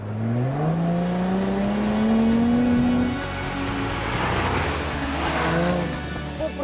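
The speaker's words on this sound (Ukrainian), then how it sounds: "Маленька кнопочка, яка виводить вихлоп напряму повз оглушники." A sports car's engine roars loudly as it revs up with the exhaust bypassing the mufflers, its rising exhaust note turning raspy and aggressive, continuous and close.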